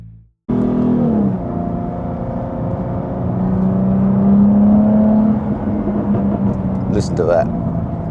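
A car engine idles and then climbs in pitch as it revs up, holding a strained whine before easing back down, loud and close.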